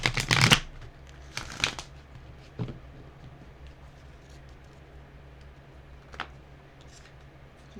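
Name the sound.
shuffling chakra wisdom cards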